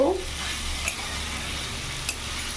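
A spoon stirs fried potatoes and cauliflower into a cooked spice paste in a pan, giving a steady low sizzle with a couple of faint scraping knocks.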